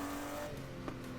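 McLaren F1 supercar in the racing game Need for Speed Heat, a steady engine drone with a faint rising rev partway through, even and fairly quiet throughout.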